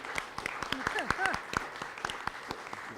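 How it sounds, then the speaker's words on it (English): An audience applauds a panel at the close of a discussion on immigration myths, the clapping spread across the room at moderate volume while a voice talks over it. "So I think we can clap now the panel"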